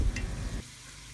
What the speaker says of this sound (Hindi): अब इसमें हरी मिर्च और टमाटर शामिल कर दें और इनको भी अच्छे से जो है वो भून लें